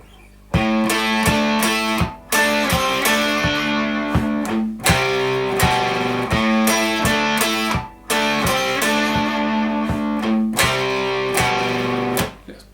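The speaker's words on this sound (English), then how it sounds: "you do the palm mute and the perfect 5th" Palm-muted electric guitar plays a part using a perfect fifth and minor sixth, distorted chugging chords in short repeated phrases with brief gaps, loud and alone.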